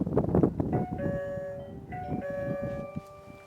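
An EZVIZ DB2 smart doorbell's chime unit, set close by indoors, plays a melodic run of sustained ringing tones at moderate volume after a moment of handling noise.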